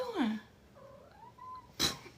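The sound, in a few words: domestic cat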